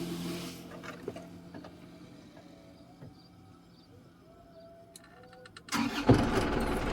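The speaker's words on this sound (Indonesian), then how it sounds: "Jadi kalau posisinya ini udah netral, tinggal kita hidupkan aja ya starternya." A manual-transmission car in neutral is started with its starter: a quiet stretch of faint cabin noise, then a sudden loud crank and catch near the end as the engine fires up.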